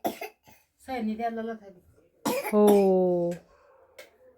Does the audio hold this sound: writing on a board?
no